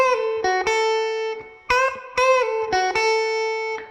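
Electric guitar plays a blues lick of short picked notes, several bent upward in half-step bends and released back down, ringing clearly with no voice over it.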